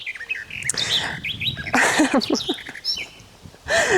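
A small bird sings close by in a summer vegetable garden, with a lively run of varied chirps, trills and whistled phrases broken by brief pauses and no talking.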